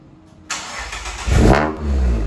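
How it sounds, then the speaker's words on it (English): Mazda ND Miata fitted with Goodwin Racing headers cranks and fires, then settles into a loud, close idle with a brief rev as it catches. "All right, first start up with the headers."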